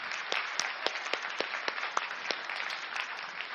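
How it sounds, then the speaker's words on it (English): An audience at a dental conference session in Seoul applauds, a moderate spread of individual claps with a few sharper hits standing out, fairly even throughout and with no talking. "a next round of applause to Dr."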